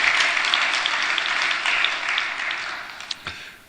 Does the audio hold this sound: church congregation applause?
yes